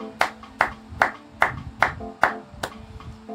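A church congregation clapping in a steady rhythm, about seven sharp, even claps spaced roughly every half second, close and clear, with no talking over them.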